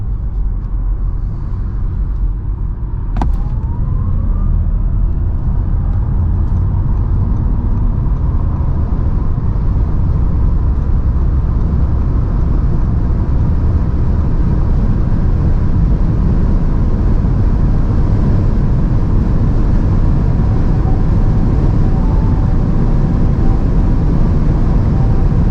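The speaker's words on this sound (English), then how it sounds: "let's now see how fast the car goes 100 to 200." A 476 hp Audi e-tron GT electric car on winter tires accelerates from 100 to 200 km/h, producing a loud, steady rumble of road and wind noise that holds without a break, with no talking.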